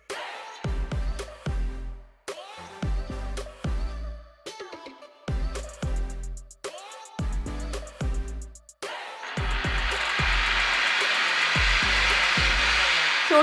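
An electric mixer grinder blending mustard, poppy seed and green chilli paste gives a steady whirring roar in the last few seconds, heard under background music.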